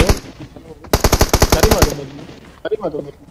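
Video game gunfire: a fast burst of about ten automatic rifle shots in quick succession, loud and close, with softer scattered game noise before and after.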